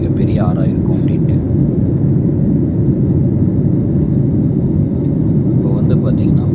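Steady loud engine roar fills the cabin of an IndiGo airliner as it takes off and climbs, a constant jet rumble and whir heard from inside, with a voice briefly talking over it.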